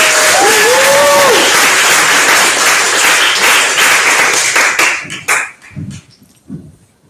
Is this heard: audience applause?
yes